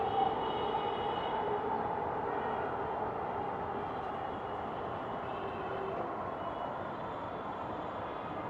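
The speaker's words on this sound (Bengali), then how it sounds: "আরেকটা আসতেছে মেট্রো রেল।" A Dhaka metro rail train near Bijoy Sarani station, running toward Motijheel, rumbles past as a steady broadband roar that holds at an even level throughout, with no voices over it.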